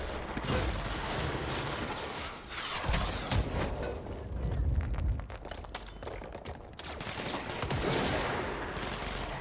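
Rockets fire and explode in the video game Control, with dense, loud, overlapping blasts and rumbling impacts throughout and a couple of quick whooshing streaks.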